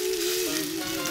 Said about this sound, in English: Love that sizzle and pop.